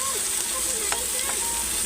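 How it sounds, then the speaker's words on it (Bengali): Spice masala for a prawn malai curry sizzles steadily in a pan as it is stirred, with a few soft scraping clinks of the spatula, close and continuous. "মশলাটা ভালো করে নেড়ে নেড়ে ভেজে নেবো"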